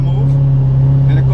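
A 2017 Corvette Z06 engine held at high revs under launch control in a garage, a loud steady drone with a strong low hum throughout, no talk over it.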